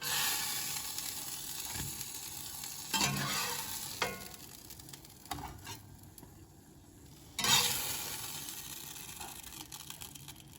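Browned meatless sausage patties drop into simmering broth, with a soft bubbling hiss broken by a few sudden splashy bursts as each one goes in. It is fairly quiet, with no voices.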